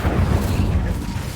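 An Incendio fire spell cast in the video game Hogwarts Legacy, a short, loud, low rumbling burst of flame that lasts about a second and a half and fades slightly at the end.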